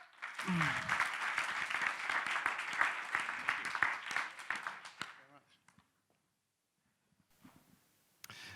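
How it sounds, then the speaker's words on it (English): A crowd at a media festival presentation bursts into loud, sustained applause lasting several seconds, then it tapers off into near silence before faint sounds return at the end. "we should give them a huge round of applause for all their hard work they've done"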